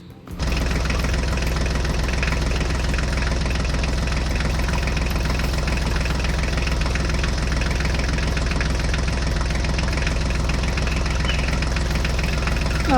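A mini tractor engine starts and then runs with a steady, loud, chugging idle that carries on unbroken for over ten seconds, with no voices.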